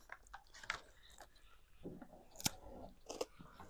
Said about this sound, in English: Today we're trying dark chocolate flavored pork rinds.